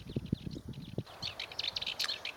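Male Sardinian or Cyprus warbler singing in a dense scrub patch in spring, a quick scratchy chattering phrase of rapid dry notes, close and fairly clear with faint background.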